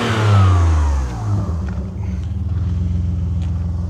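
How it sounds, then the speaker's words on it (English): An Alfa Romeo 156 with the 24-valve Busso V6 revs sharply close by, the engine note flaring up then falling back to a throbbing, slightly lumpy idle, loud and with no speech. "I'm going to rev it again for the kids"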